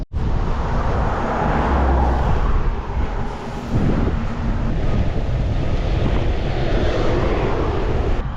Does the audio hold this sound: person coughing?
no